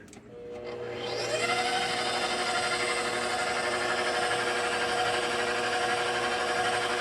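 A homemade electric ice cream maker starts up and runs, a steady close motor whir with a rising whine at the start and then a constant hum, no talking.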